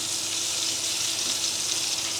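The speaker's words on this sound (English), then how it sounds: "So I'm just going to chuck the sweet potato chips in there." Sweet potato chips fry in a pan while cooking on the road in a van, a steady, close, even sizzle with a faint watery hiss throughout.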